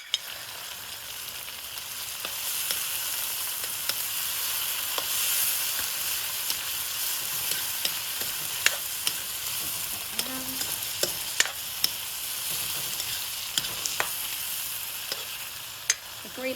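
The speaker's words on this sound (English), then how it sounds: "Then we're going to add the tomatoes." Eggs, tomatoes and garlic stir-frying in a pan, a continuous bright sizzle with scattered sharp clicks and scrapes of a utensil against the pan, close and steady throughout, no talking.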